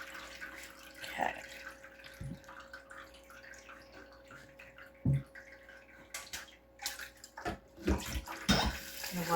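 Cold tap water runs over potatoes in a pot, a steady trickling flow broken by several sharp knocks and clatters of handling, with no one talking.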